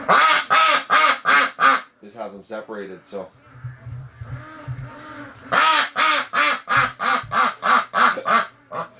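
A backyard duck flock quacks loudly outside a window in long rapid runs of harsh calls, pausing midway while a person speaks briefly nearby, then resuming a steady quacking series.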